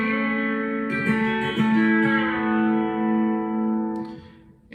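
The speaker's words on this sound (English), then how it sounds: "We're going to do a very classic, simple A bender lick." A B-bender guitar plays a classic, simple lick in A over a backing track, its notes bending up at the start and easing back down at the end, sustained and ringing with reverb and effects.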